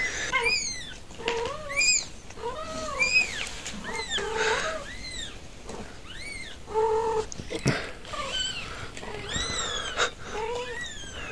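A cat and her newborn kittens indoors make repeated high, rising and falling meows and cries, several overlapping calls in quick succession, close and fairly loud over a soft background.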